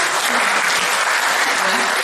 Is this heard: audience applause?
yes